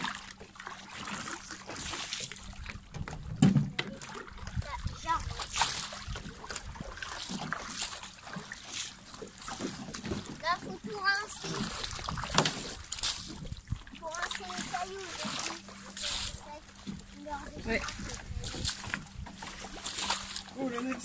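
Water splashing, trickling and running off a sailboat and its dinghy after a sailing lesson near an island: irregular close splashes and dribbles under ongoing conversation, with steady background noise.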